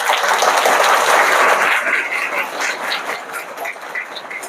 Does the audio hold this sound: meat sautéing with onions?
no